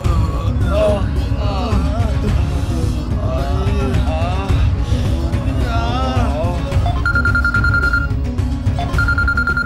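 A telephone rings in two short electronic bursts near the end, heard beneath loud dramatic music and voices from a Tamil television serial scene.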